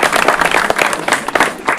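An audience claps loudly at a Tamil drama troupe performance by the Arani Poovarasan Nadaga Mandram, a dense burst of crowd applause heard close with no speech over it.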